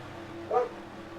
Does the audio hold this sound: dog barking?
yes